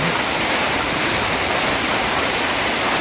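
A loud, continuous roar of heavy rain, evenly dense from start to finish, with no pauses or voices.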